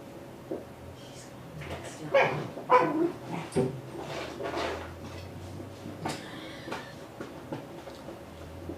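A playful puppy indoors with its toys, giving a few sharp barks and yips with faint whimpers between, close by, in separate bursts.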